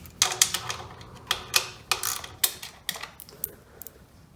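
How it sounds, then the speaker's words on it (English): A ratchet wrench loosening a bolt on a 1966-1979 Honda CT90 motorcycle, close rapid clicking strokes in uneven bursts that grow fainter toward the end, no voices. "Now we're going to move around to the right side of the bike and remove this bolt right here."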